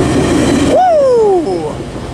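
A Metrolink passenger train passes close by: a loud rumbling roar cuts off suddenly into a rising then falling horn-like tone that fades over about a second.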